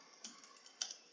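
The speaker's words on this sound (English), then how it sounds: "We're going to type in spoof." Computer keyboard keys tapped while entering a command in a Linux terminal, a few soft separate clicks with one sharper cluster near the end, close and quiet with no talk.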